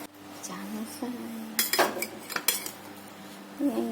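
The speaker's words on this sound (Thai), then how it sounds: "เดี๋ยวเราจะลองตัดนะคะ" Utensils cut through a pizza made from pancake batter and cooked in a frying pan, with scraping and a cluster of sharp metallic clinks midway, while a voice speaks softly in the background.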